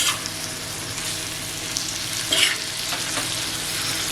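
Small prawns (jawla) sizzling on a tawa as they are stirred, a steady close hiss with soft scraping strokes and a louder stir midway.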